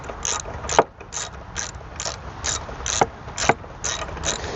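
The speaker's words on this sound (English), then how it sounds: "Next is to use the ratchet and just secure that firmly back into place" A ratchet tightens a car battery terminal bolt in a rapid run of sharp metallic clicks, about two per second, close and clear against a faint background hiss.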